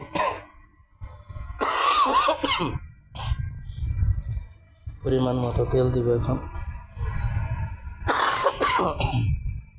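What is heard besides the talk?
coughing from a cold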